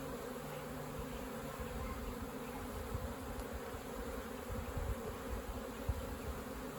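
Honeybees buzz steadily on a hive frame during an inspection for swarm cells, a dense, even drone heard close up with no talking.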